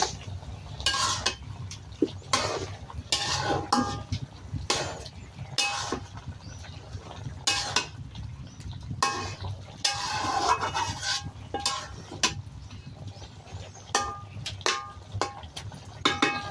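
Garam masala spices, including kabab chini, added to a cauliflower and potato curry in a pan: repeated clanking of a metal spatula against the pan with stirring scrapes, in an irregular rhythm over a low sizzle.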